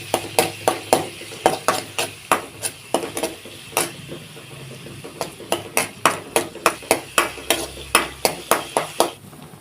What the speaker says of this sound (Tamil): வெங்காயத்தை சேர்த்து நல்லா வதக்கி விட்டுக்கலாம்